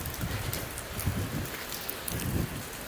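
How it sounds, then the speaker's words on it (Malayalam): A sudden heavy downpour pattering densely on surfaces nearby, a continuous rushing hiss with irregular louder splashes and no talking. "നല്ല മഴ പെട്ടെന്ന് പെയ്തതാ."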